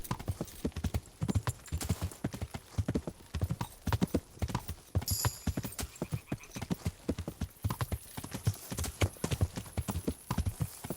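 Horse hooves in the video game Kingdom Come: Deliverance clop in a steady, even trotting rhythm, close and continuous, with a brief whinny partway through.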